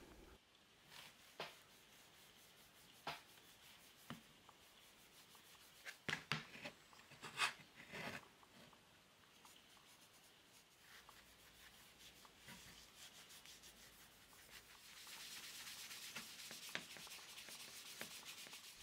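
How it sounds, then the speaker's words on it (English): Wax is rubbed by hand into a wooden part of a Record No 405 multiplane, soft close scuffing with scattered light taps and clicks, growing into a steadier, brighter rubbing near the end. "Rub the wax in well to make sure it penetrates."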